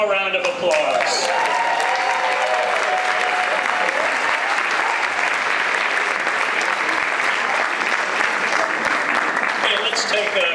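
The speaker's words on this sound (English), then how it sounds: "One more round of applause." A round of applause from a community breakfast audience after a song, sustained dense clapping throughout, with a few faint voices mixed into the crowd noise.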